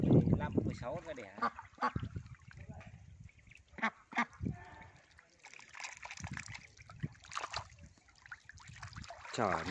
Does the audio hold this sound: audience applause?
no